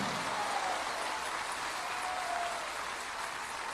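A church congregation applauds during a Spanish-language evangelical testimony service, a soft, distant, continuous wash of clapping that holds steady for a few seconds.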